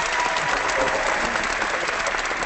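A clapping sound effect in Google+ Hangouts sounds like a dense burst of crowd applause, steady and moderately loud throughout, with no voices over it.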